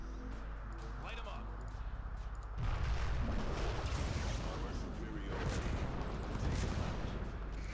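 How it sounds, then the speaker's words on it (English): Explosions and artillery blasts roar as a bridge is destroyed in the strategy game C&C: Twisted Insurrection, a heavy rumbling barrage that swells after a few seconds and continues densely, with a voice talking over it. "I shall stop you by destroying the entire bridge."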